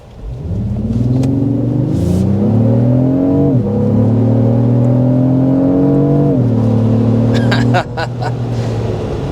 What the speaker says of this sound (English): I did notice that when you put in the sport mode, you get a simulated sound enhancement